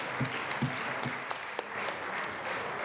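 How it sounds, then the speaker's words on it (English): Members in a state legislative chamber clap for Aerospace Day guests, an even patter of applause with a few sharper, closer claps standing out. "Let's give them a round of applause."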